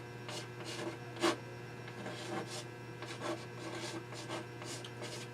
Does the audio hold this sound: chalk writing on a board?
yes